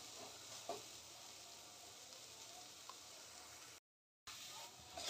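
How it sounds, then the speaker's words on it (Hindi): Onions with dried chillies frying on high flame while being stirred, a faint, even sizzle with a couple of soft stirring taps, cut by a short silent gap. "फ्लेम को हाई कर देंगे और ऐसे चलाते ही रहेंगे, जिससे प्याज जल्दी फ्राई हो जाएगा"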